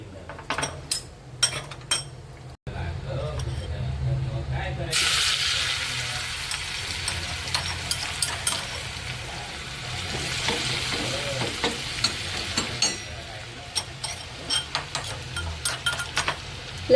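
Crushed garlic and cumin go into hot oil with turmeric, chili and salt. They crackle in bursts, then settle into a strong continuous sizzle with repeated clinks and scrapes of a utensil stirring in the pan, and no talking.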